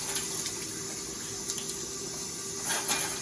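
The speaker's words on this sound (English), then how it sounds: "So we're going to rinse them." Tap water runs steadily over sterilized instruments in a sink, a continuous close splashing stream with faint metallic clinks.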